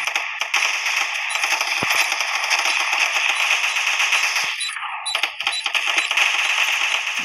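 Rapid bursts of gunfire in the game Special Force 2, sharp crackling volleys repeating in quick succession with brief gaps, loud and close.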